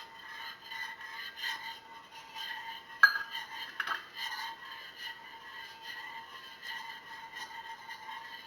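A spoon stirs pure cane sugar into hot tea in a jar for kombucha. Soft, repeated clinks and scrapes of metal on glass keep up a steady rhythm, with one sharper knock partway through.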